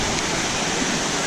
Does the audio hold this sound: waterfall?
yes